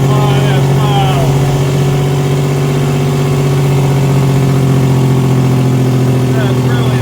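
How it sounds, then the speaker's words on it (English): Big truck engine braking downhill with its Jake brake engaged, a loud, steady low rumbling drone that holds for several seconds with a hint of turbo whine above it, close and continuous. "Let's get some Jake brake action. Oh my, that's loud."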